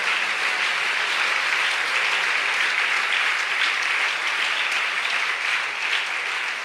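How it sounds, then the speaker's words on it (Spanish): A church congregation breaks into sustained applause during a sermon on family, a loud, thick roar of clapping that stays constant with no voices above it. "Dele un aplauso al Señor ahora."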